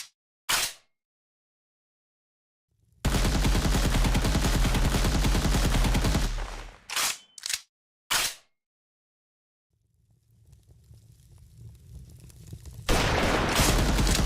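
Sniper gunfire in a video game: a few sharp, loud isolated shots and a long sustained blast of fire, followed by three quick cracks and a rumbling roar that builds toward the end.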